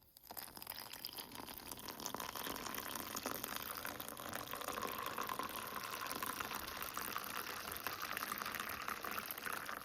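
Hot water being poured into a cup while making chicken siomai: a continuous, fairly loud rushing, gushing stream of about ten seconds, steady and close without pauses.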